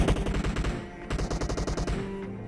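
Rapid bursts of automatic fire from a Vector submachine gun in a shooter video game, a close, loud string of quick shots that briefly pauses and then resumes.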